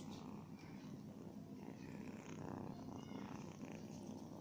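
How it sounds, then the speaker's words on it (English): A kitten purrs softly and continuously, close by and quiet, as a low, steady rumble. "Oh, you're purring."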